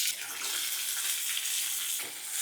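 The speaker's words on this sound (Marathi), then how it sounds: "गवार भाजूया." Finely chopped cluster beans (guar) roast in oil in a pan over high heat, giving a loud, continuous hissing sizzle with slight surges as they are stirred.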